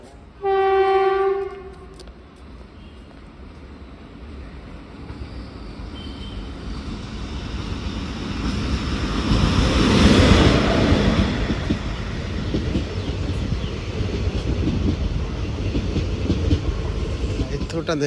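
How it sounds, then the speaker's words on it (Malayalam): A train horn blares briefly, then a heavy rumbling train approaches a station platform, swelling to a loud clattering peak and rolling on steadily. "അപ്പോൾ ട്രെയിൻ ഉടനെ വരും"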